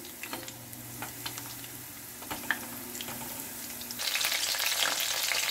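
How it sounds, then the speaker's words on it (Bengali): Chicken pakoras deep-fry in oil with a soft steady bubbling, dotted with clinks and scrapes as the pieces are turned, before the sizzle swells louder toward the end. "এইভাবে উল্টে পাল্টে ভাজতে হবে।"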